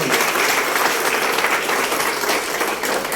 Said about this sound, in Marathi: एक जोरदार मनापासून जोरदार टाळ्या काकांसाठी